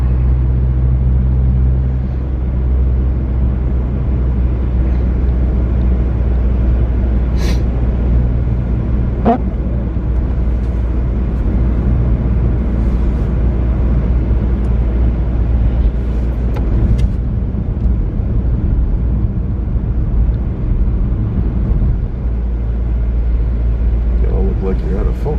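A car rolls along in fourth gear at 34 mph in cold weather, its engine and road noise forming a loud, steady low rumble throughout, with a voice talking over it.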